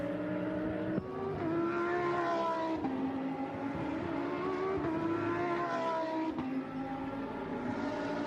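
A Lamborghini Super Trofeo race car at Imola climbs a hill and crests a brow, its engine a loud, steady high-pitched howl that rises and dips with several gear changes.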